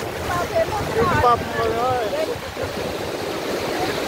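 Sea waves wash onto Hamsala Deevi beach, a steady, fairly faint surf hiss and rumble running throughout, with voices chattering over the first half.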